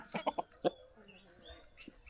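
Native desi chickens in a small bamboo coop give a quick run of soft clucks, four close together, then quieter scattered clucking and one last cluck, fairly near and faint.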